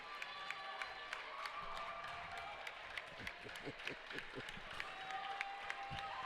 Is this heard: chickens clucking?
no